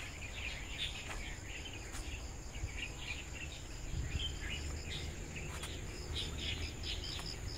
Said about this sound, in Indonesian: Ada suara kodok, ada suara burung, pokoknya komplit semuanya.